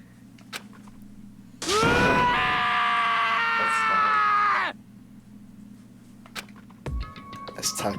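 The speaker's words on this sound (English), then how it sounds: "As Taka's sad screams invaded our schools" A character in the Danganronpa: Trigger Happy Havoc video game lets out a long, loud, anguished wailing scream lasting about three seconds, followed by quieter game sounds and clicks.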